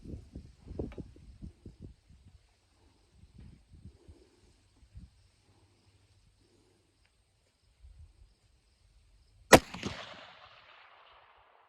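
A Savage Elite Precision rifle firing Federal Gold Medal Match 185-grain Berger ammunition fires once at a steel plate, a single sharp loud crack near the end after scattered faint handling noises and quiet.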